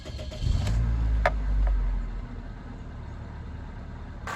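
A cheap, junked Toyota Corolla's engine cranks and catches, rumbling briefly before settling into a quieter idle.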